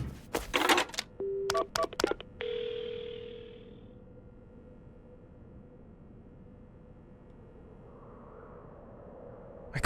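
Phone dialing in the Paranormasight: The Seven Mysteries of Honjo video game: a quick burst of dial beeps, then a steady ringing tone that fades to faint background hum.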